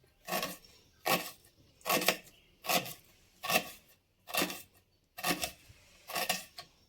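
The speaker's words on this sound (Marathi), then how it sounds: "मम्मी चिरते कांदा" Onion being chopped on a board at home, eight crisp knife strikes in a steady, evenly spaced rhythm, close and clear with no talking.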